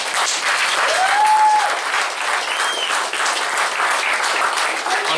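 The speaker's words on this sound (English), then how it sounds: "let's give the bride and the bridesmaid a round of applause" Wedding guests at the speeches applaud the bride and bridesmaid, a loud, dense, continuous wash of clapping from a full room that holds steady throughout, with a few faint cheers rising above it.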